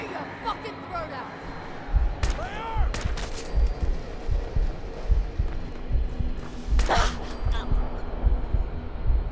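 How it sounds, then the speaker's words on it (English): An assault rifle fires in Fallout 4, with a few sharp, loud bursts standing out over a constant low rumble of game combat noise, while a voice is heard in the mix. "Assault rifle."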